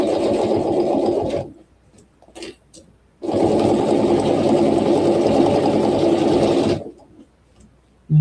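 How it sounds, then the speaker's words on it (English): A sewing machine back stitches while quilting, running in two loud, close, steady bursts, about a second and a half and then about three and a half seconds, separated by a quiet pause with a few light clicks. "I'm going to do a little back stitch"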